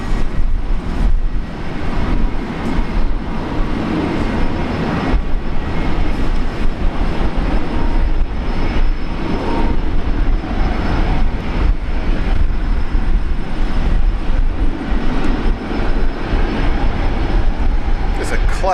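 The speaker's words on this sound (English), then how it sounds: "I do like this Philippines 777." A Philippine Airlines Boeing 777 lands at Brisbane airport in heavy rain, a loud continuous rumbling roar with broad noise throughout, and a voice talking faintly.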